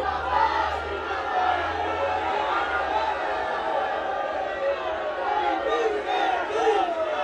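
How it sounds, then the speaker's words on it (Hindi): A dense crowd gathers at Pappu's tea stall, a steady murmur of many voices with scattered shouts, close and busy throughout. "कितनी भीड़ है यार।"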